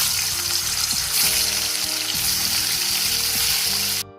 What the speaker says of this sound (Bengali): মাছ ভাজার জন্য কড়াই বসিয়ে দিয়েছি। কড়াইয়ের মধ্যে তেল দিয়ে দিয়েছি।